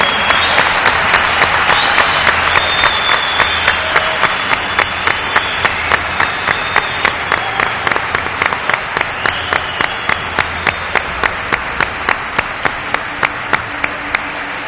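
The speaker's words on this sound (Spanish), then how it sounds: "pido un aplauso absoluto para un hombre de Morón" Sustained studio audience applause on a late-night Spanish radio show, dense and loud, with rapid clapping that thins into separated claps toward the end.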